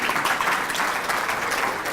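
Audience applause fills a live motivational talk, a steady, dense wash of clapping that holds at an even level throughout without any voice on top.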